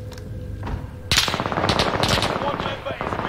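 Rapid automatic gunfire in the Call of Duty Warzone video game on the Fortune's Keep map, a loud sustained burst of dense shots after a few scattered sounds, with faint talk beneath.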